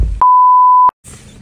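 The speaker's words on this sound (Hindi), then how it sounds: "आपका सब बीप डालना पड़ेगा" A censor beep sounds as a single steady electronic tone of about two-thirds of a second, loud and clean, cutting off the sound before it, followed by a short silence and then faint background noise.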